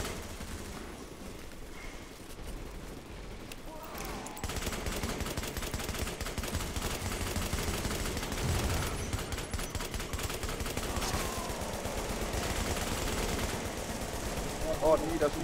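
Sustained rapid turret gunfire in the shooter game Tom Clancy's The Division, a loud, continuous stream of shots that goes on without a break and thickens partway through.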